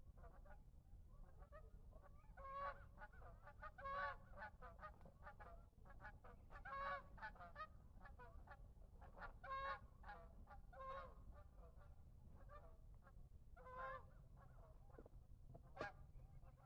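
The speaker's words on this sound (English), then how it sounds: "There's a lot of bird sounds, and so I'm going to finish off today by just being quiet and letting you listen." Birds calling outdoors on a quiet morning, a dense stretch of honking, goose-like calls repeating irregularly over a soft steady background, moderately distant, with no talk.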